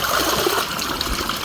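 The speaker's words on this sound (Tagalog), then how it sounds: "mag-iigib kami ng tubig na inumin" Drinking water pours steadily into containers at a water source, a loud, continuous rushing gush close by with no pauses.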